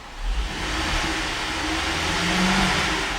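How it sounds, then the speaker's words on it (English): A 2011 GMC Acadia SLT's 3.6 liter V6 is revved near the microphone, the engine swelling smoothly into a sustained higher-pitched whine that holds steady without speech. "Keep an eye on the tachometer. I'm going to rev the engine."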